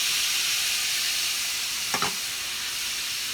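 Chopped onion cooks without oil in a non-stick pan with a little vegan bouillon, giving a steady soft sizzle and hiss, with a brief louder stir or splash near the middle.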